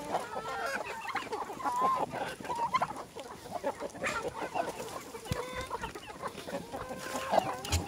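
Chickens cluck and chatter continuously nearby, a busy overlapping flock with occasional louder squawks and faint voices in the background.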